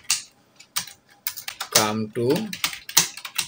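Computer keyboard typing while composing text on a slide in PowerPoint, sharp clicky keystrokes in quick irregular bursts, close up, with someone speaking over part of it.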